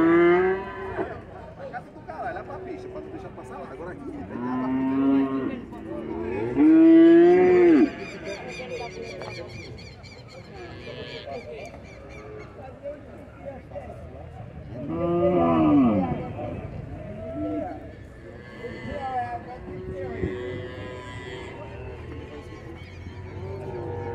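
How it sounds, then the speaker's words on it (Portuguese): Cattle at a traditional livestock fair in São Bento do Una, Pernambuco, giving several loud drawn-out moos, some near and some farther off, amid crowd murmur and background chatter. "Muito bom o gado aqui, ó. Vaca boa aqui."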